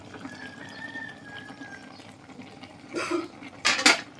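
Quiet background hiss, then a few sharp metallic scrapes and clatters near the end as paksiw, its water evaporated, is flipped in a pan.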